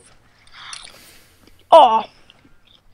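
Crunchy bite and chew into a chicken-flavored potato snack, a short loud burst of a second or less after a faint earlier rustle, with a brief spoken exclamation.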